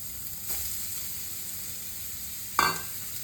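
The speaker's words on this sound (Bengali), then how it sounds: "এখন তোমাদের দেখাচ্ছি আমি এই বিটটা দিয়ে দিলাম কড়াইতে" Grated beetroot hitting a hot wok, giving a brief soft rush near the start and then one loud sharp sizzle burst near the end over a steady background hiss, with no talking.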